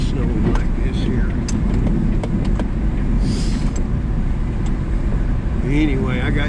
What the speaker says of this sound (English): This little truck's awesome. It's a mini truck. It's a Japanese thing